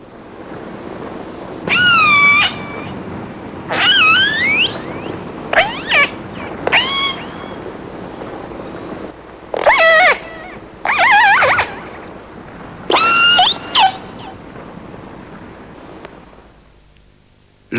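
Whale calls picked up by a hydrophone in the waters of a strait: a series of rising and falling tonal wails and moans, loud and clear, in separate bursts with pauses between them.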